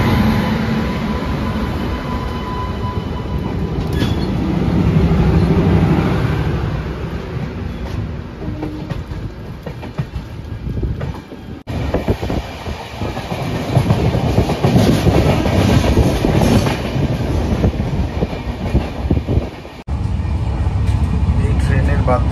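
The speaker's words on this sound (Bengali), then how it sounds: "আমাদের ট্রেন হাওড়া দিয়ে ছেড়ে বেরিয়ে পড়লো ঠিক রাইট টাইমে।" Train pulling out of Howrah station, steady rumbling wheels and rhythmic clickety-clack of the carriages, loud and close throughout with a constant interior drone and brief dropouts.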